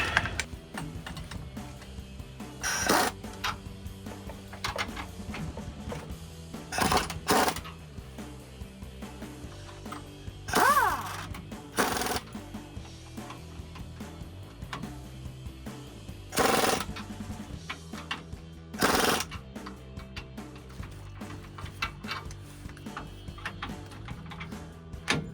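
Power tool with a 22 mm socket removing rear bolts on a 2005-2023 Toyota Tacoma during a lift block install, heard as several short loud bursts spaced a few seconds apart over quiet workshop background.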